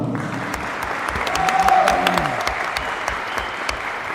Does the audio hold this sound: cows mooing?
no